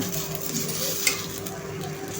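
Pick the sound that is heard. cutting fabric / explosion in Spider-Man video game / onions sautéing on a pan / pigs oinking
onions sautéing on a pan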